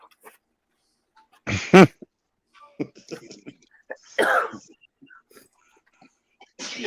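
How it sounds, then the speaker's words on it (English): A single sharp sneeze bursts out amid scattered quiet murmurs and breaths, followed by brief bits of talk. "The sneeze heard around the world from Texans down under."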